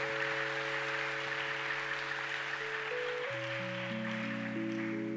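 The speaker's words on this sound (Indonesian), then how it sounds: "Boleh tepuk tangan buat Tuhan Yesus." Applause from a conference audience, a steady wash of clapping under sustained musical tones that shift partway through, moderately quiet and continuous.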